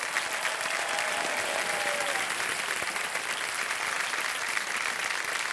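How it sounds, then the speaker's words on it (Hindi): Studio audience on a televised quiz show applauding steadily, a dense, sustained clapping that stays even throughout with no voices over it. "तालियां बज जाए इनके लिए बहुत जोर से।"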